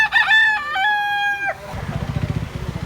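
A rooster in Consolacion, Cebu crows loudly and nearby in one long, strained call. Rough rhythmic clucking and scuffling follow.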